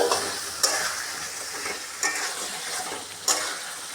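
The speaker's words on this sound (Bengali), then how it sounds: "মশলাটা কষানো হয়ে গেছে, এখন আমি দিয়ে দিব ভেজে রাখা পটল।" Fried pointed gourd is stirred into a cooked spice paste in a pan, a soft continuous sizzle broken by three distinct scraping clacks of the spoon, close and fairly quiet.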